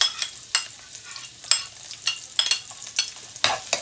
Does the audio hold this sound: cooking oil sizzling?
yes